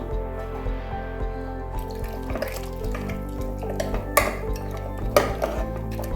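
Water runs and splashes steadily into a metal pot of mutton bones, with occasional clinks of the vessel, close by and continuous.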